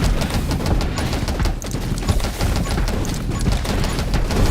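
Dense, continuous gunfire and explosions from enemies in the video game 20 Minutes Till Dawn, loud rapid rattling shots layered into a constant barrage with no pauses.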